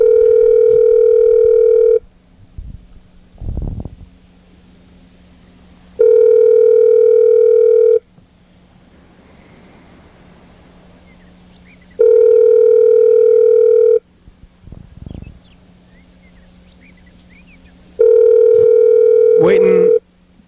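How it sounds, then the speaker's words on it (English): Outgoing ringback tones sound while a cell phone is being called, four loud two-second rings spaced evenly, with voices talking quietly in the gaps between them. "So we're gonna try to call his cell phone."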